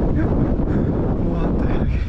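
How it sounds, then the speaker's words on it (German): Strong wind buffets the microphone outdoors on a Madeira biking trail, a dense, continuous rumbling roar with gusty swells that fills the whole stretch. "der Wind ist so stark"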